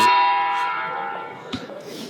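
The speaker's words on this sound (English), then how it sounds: "So you get 1 bell, although for some reason we got a second one right there." A church bell in Italy strikes one o'clock with a single sustained ringing tone that slowly decays, then a second fainter strike follows near the end.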